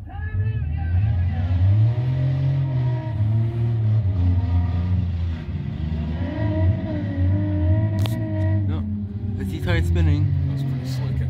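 A minivan's engine revs hard as it spins out during a minivan demolition derby final round, a loud sustained roar with rising and falling pitch, crowd noise and an announcer's voice over it, plus sharp clanks near the end.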